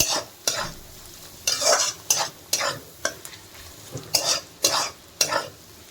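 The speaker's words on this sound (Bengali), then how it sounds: "এটা আমি ভালো করে নেড়ে নিচ্ছি।" Chowmein with turmeric, coriander, cumin and garam masala is stirred in a sizzling pan, the spatula scraping in a steady run of about a dozen short, close, rhythmic strokes.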